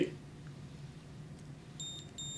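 Two short electronic beeps from the digital line counter on an Abu Garcia Max DLC fishing reel sound near the end, clear and high-pitched, over a quiet low hum.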